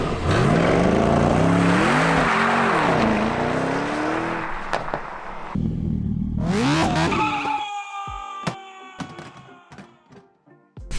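A Mercedes E63s AMG with 612 hp moves through snow on a freezing day, its engine droning loud and close with rising and falling revs. A few sharp knocks and clicks follow in quieter cabin sound near the end.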